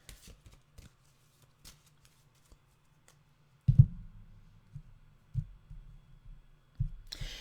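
Animal oracle cards being shuffled, a few soft light clicks at first, then a flurry of riffling flutters and taps in short bursts, close and fairly quiet.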